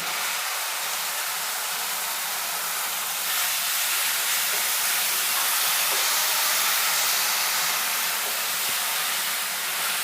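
Ground paste of two tomatoes frying in a pan for an eggplant and potato curry, giving a steady, even hiss and sizzle that holds at a constant loudness throughout, with no talking.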